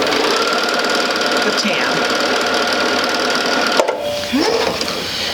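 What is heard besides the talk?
sewing machine stitching quilt fabric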